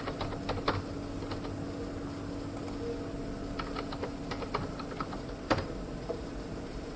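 Quiet, irregular tapping of keys on a computer keyboard as a web search is typed into Chrome on a Windows PC, with short bursts of keystrokes over a steady low hum and no speech.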